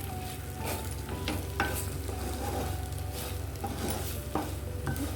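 A dry bitter gourd stir-fry sizzles steadily in a pan as coconut powder is mixed in, with repeated scraping and knocking of a spoon against the pan over a low, constant frying hiss.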